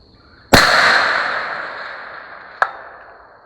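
A rifle fired at a target about 525 yards away, two sharp reports: a loud near crack with a long fading rumble, then a second brief crack about two seconds later.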